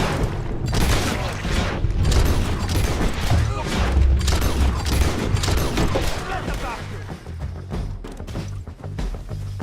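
Dense, chaotic gunfire rattles in a shootout at a bridge in Red Dead Redemption 2. Rapid overlapping shots and booms carry on with shouting voices mixed through the din.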